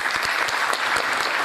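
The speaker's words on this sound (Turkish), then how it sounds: "öncelikle kendinizi alkışlamanızı istiyorum" A concert audience at a Turkish classical music show in Bursa breaks into applause, a loud, dense burst of many hands clapping at once that stays steady throughout, with no voices over it.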